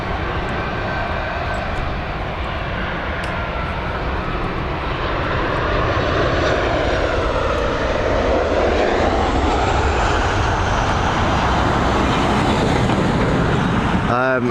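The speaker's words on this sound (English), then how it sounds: "we've got this Boeing 737 on its way in" A Boeing 737 airliner arriving at Dublin Airport, its jet engines a loud, continuous broadband roar that swells slightly as it nears over about fourteen seconds, with no talk.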